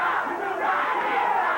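Memphis wrestling arena crowd cheering and yelling, a dense continuous roar of many voices close and loud.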